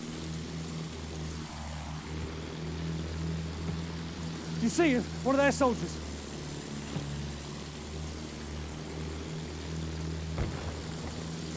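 Propeller drone of a WWI airplane in Battlefield 1, a steady low hum running throughout beneath gunfire and game effects, with brief voices speaking in the middle.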